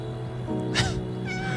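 A cat meows in an open world RPG video game, a single drawn-out call rising and falling over a steady game music bed, close and fairly clear.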